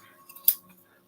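Scissors trimming a yarn pompom, giving it a haircut: a single crisp snip of the blades, close and clean against a quiet room, with a few faint softer clicks just before it.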